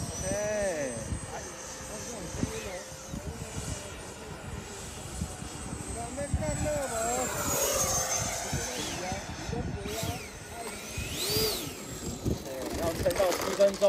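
An XFLY T7A 80mm electric ducted-fan RC model jet on a 6S battery flies overhead, its whining roar swelling and fading as it passes, with people talking throughout.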